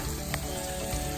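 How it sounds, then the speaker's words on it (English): Peppers fry in a pan, a dense, constant hiss of sizzling heard up close with one brief sharper pop. "You smell those peppers cooking?"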